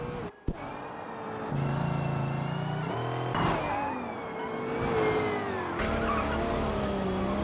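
Race cars in the Automation / BeamNG racing game roar by, engines revving and shifting pitch, with a sharp click at the start and sweeping passes through the middle, loud and close with no talk.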